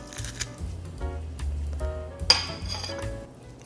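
A spoon stirs peanut butter sauce with sesame oil and garlic in a bowl, giving scattered light clinks and scrapes against the dish, close and fairly quiet, with one sharper clink.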